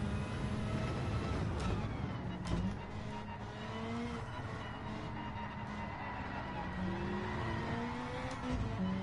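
A car drifting in the video game Gran Turismo 7, with the engine note rising and falling alongside tire squeal and skidding, steady and close, and some voice underneath.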